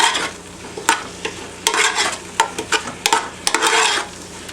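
Mushrooms and onions sizzle in a pan as soy sauce reduces for green bean casserole, a loud crackling fry broken by repeated sharp scrapes and stirs of a utensil against the pan.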